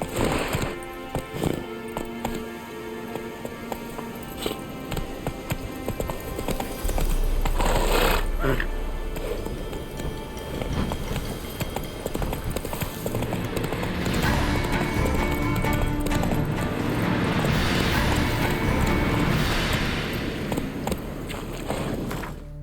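Horse hooves in The Witcher 3 video game beat a steady clip-clop across a dense, loud game soundscape, with a voice briefly heard over the riding.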